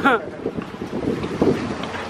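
Wind buffets the microphone over water sloshing against a moving boat in the Bahamas, a short rough rush of noise.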